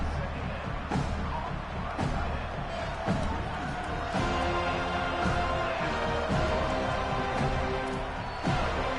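Stadium crowd at a college football game, a loud continuous roar of cheering and noise with dull thumps scattered through it, filling the whole stretch.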